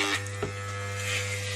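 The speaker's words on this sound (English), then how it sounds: "Cutting hair time of Kuya Gab. Very, very thick hair." Electric hair clippers buzz steadily up close while cutting a child's very thick hair, a constant droning hum with brief rustles as the blades move through it.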